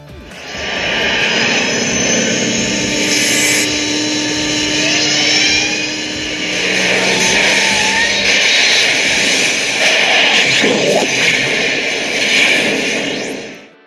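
A loud, sustained roar of engine-like noise, the DeLorean time machine sound effect from Back to the Future, with whining and humming layers that rise and hold, shifting slightly in pitch before cutting off at the end.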